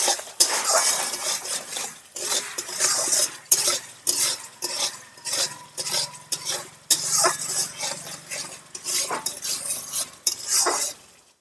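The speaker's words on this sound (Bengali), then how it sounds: "এবার খুব ভালো করে মশলাটাকে খুব ভালো করে নাড়াচাড়া দিয়ে কষিয়ে নেব" Spice masala being stirred and fried in a pan for a raw banana curry, with a utensil scraping and clinking against the metal in steady, repeated strokes over a low sizzle, close and fairly loud.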